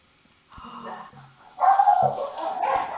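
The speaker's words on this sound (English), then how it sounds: "sorry about my dogs. Can you hear them?" Dogs bark and yip at moderate distance in short bursts, with some whining between barks.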